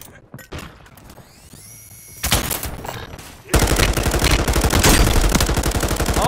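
Rapid bursts of M13 machine gun fire in a first-person shooter game, sparse shots at first, then loud sustained automatic fire dominating the second half.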